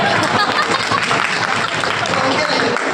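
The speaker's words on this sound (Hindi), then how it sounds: "अब थोड़ी देर हो गया तालियों की गड़गड़ाहट कम सुनाई दे रही है" A classroom audience in a Hindi literature class breaks into steady, loud applause, a dense wash of many hands clapping at once with a few chuckles mixed in.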